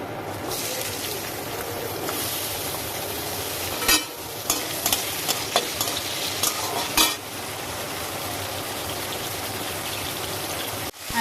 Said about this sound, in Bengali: আমি একটু আলাদা আলাদা করে ভেজে নিচ্ছি দেখুন ওই তেলে একেবারে ভেজে নিচ্ছি বিনস